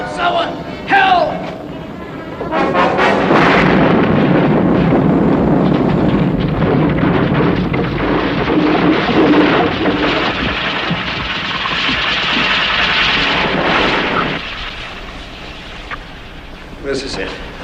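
A raging fire tears through a burning city, with deep explosive bursts breaking through a loud, continuous roar that fills nearly the whole stretch while voices call out over it.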